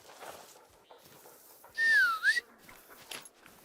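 Hunting dog in theHunter: Call of the Wild giving one brief high, wavering whimper that swoops down and back up, close and clear over a quiet outdoor background.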